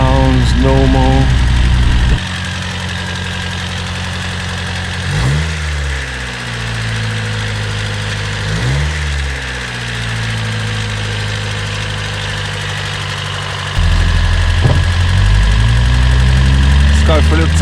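A 1993 Honda Del Sol D15 engine idling after running on E10 petrol, a loud close steady idle with a few brief throttle blips, rising again near the end, with a voice speaking over it.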